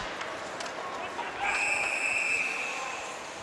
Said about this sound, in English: Ref blew the whistle here.